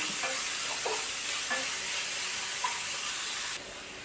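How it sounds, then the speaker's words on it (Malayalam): Onion sautéing with ginger and green chillies in a pan for upma, a soft even hiss and sizzle with a few light stirring scrapes, close and steady. "അത് കഴിഞ്ഞ് സവാള ഇട്ട് വഴറ്റുന്നു"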